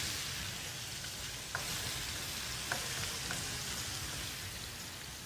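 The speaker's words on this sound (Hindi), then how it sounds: "प्याज को बहुत ज़्यादा ब्राउन नहीं करना है, जस्ट हल्का सा इसको हम सौते करेंगे" Onions being lightly sautéed in a pan, a faint, even hiss of frying with a few brief ticks of a spoon against the pan, steady and uninterrupted.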